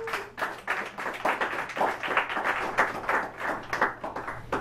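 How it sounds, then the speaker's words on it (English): Applause from an audience welcoming ambassadors back to the front of a room at a Visalus event: a moderate, fairly thin clapping that holds steady for several seconds. "Give them a round of applause."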